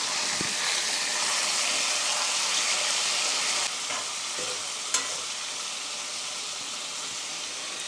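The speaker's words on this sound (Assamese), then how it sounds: "এতিয়া এইখিনি ধুনীয়াকৈ লৰাই ল'ম।" Chicken curry with taro being stirred in a pan, a steady loud sizzle with faint scraping and a few soft knocks of the spoon, close and without talk.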